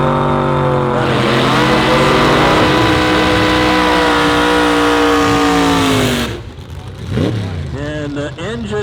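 A drag racing car with a rear-mounted small block Chevy engine bored and stroked to 434 cubic inches roars loudly at a Toronto Motorsports Park drag meet, its pitch climbing through sustained revs before cutting off abruptly, followed by quieter engine noise.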